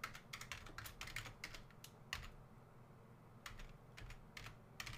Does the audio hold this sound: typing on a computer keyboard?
yes